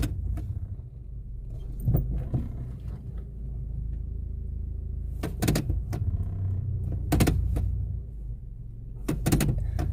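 A high-mileage car with over 300,000 miles, just treated with a head gasket sealer, idles quietly as a low steady rumble, with a few sharper clicks and clunks like door or key movements.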